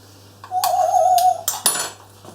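Gammon and potato being mixed together in a bowl, heard as a few close clinks and clatters with one short scraping squeal, in brief bursts with no talking.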